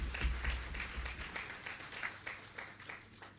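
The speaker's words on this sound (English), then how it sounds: "Let's give them a round of applause." An audience applauds at a credit union's annual general meeting, producing a moderate, steady patter of clapping that gradually thins and fades. The applause sounds fairly distant, with no clear talking over it.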